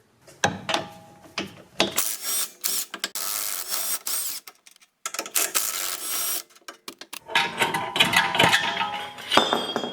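A worn, rough rear wheel bearing on a Honda Accord is turned by hand, giving bursts of gritty grinding and ratcheting clicks separated by brief silences, close and fairly quiet.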